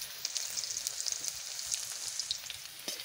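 Garlic crackles and sizzles in hot white oil for a bitter gourd leaf dish, a close, steady frying hiss with sharp little pops scattered throughout and no voices.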